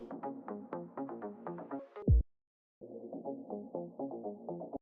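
Octave-down synth layer with its other frequencies filtered out, leaving a warm, muffled series of rhythmic tonal hits, a short low thump, a gap of silence, then the dull pattern returns.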